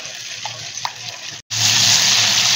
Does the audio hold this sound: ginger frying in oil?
yes